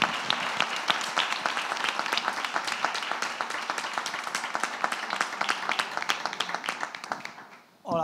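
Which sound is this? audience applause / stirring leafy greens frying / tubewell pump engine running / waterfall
audience applause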